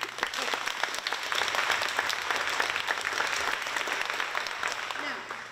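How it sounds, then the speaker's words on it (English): An audience breaks into loud applause for performers at an acting competition event, dense steady clapping that holds at full strength for several seconds before starting to fade at the end. "Let's give them a round of applause."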